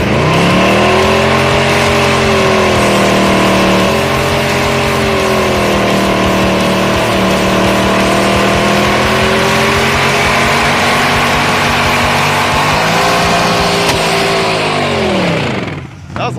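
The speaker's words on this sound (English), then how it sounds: "or we could do more burnouts" A 1964 Ford Galaxie 500 XL does burnouts, its engine roaring loud and close with sustained revving that rises and falls in long sweeps before cutting off near the end.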